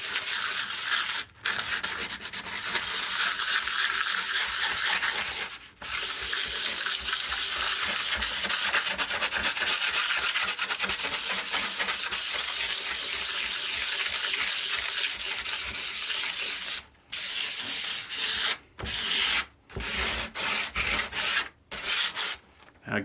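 Continuous rough scuffing by hand against an aluminum composite panel, a close, hissy rubbing that pauses briefly now and then before resuming.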